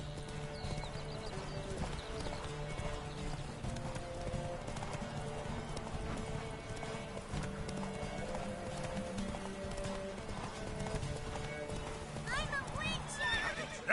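Horse hooves clip-clop at a steady gallop in The Witcher 3 video game, with occasional neighs and whinnies over continuous game music and ambience, plus talk.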